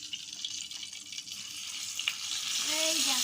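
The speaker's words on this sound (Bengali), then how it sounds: "মশলাটাকে ঢেলে দেব" Spice masala paste mixed with ginger-garlic paste is poured into a hot pan for a fish roe curry, producing a continuous hiss that swells louder toward the end, with some light clinks and no voices.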